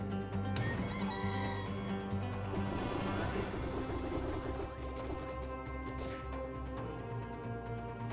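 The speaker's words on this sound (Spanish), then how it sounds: "el poder Polluno, el cual nos convierte en un pollo o un gallo" A cartoonish chicken sound from a transforming power in a crossover video game clucks and crows amid busy game music and effects, a short bright burst standing out near the end.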